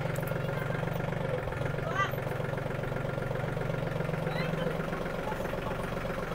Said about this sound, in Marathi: या प्रकारे तुम्ही बघू शकता गायत्री ट्रॅक्टर चालवत आहे.